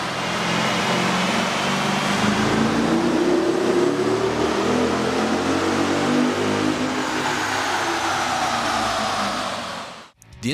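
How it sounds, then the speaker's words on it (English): A Dodge Challenger/Charger 6.4L V8 fitted with an aftermarket air intake revs on a dyno. It rises into a loud, sustained roar for about ten seconds and then cuts off abruptly. "With the air intake installed, we ran the vehicle on the dyno to test the sound comparison versus the stock intake."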